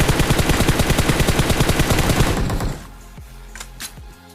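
Gunfire in a video game: a long, rapid burst of automatic fire, loud and evenly spaced, stops after about two and a half seconds, followed by a low rumble and a couple of faint single shots, with no talking.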